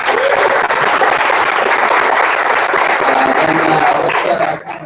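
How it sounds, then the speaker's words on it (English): An audience at a tech talk on machine and human capabilities claps loudly and steadily after the presentation, a dense, sustained applause that tapers off at the end. "Round of applause."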